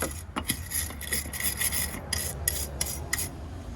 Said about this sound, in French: prenez votre petite brosse, grattez les filetages